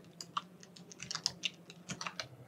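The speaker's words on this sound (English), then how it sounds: "Let's type in regedit" Quick, uneven keystrokes tap on a computer keyboard at close range, a short burst of typing with small pauses between clusters and no voices.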